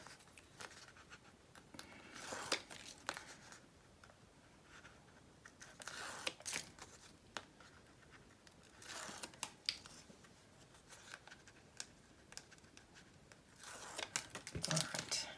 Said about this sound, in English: All right, get this tape out of the way.